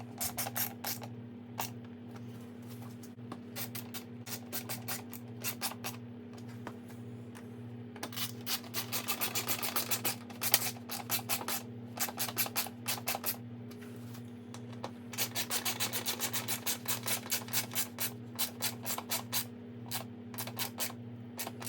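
Ratchet clicking in quick bursts while front nose fairing bolts are snugged on a 2020 BMW S1000RR, the repeated clicks close and fairly faint over a steady low background hum.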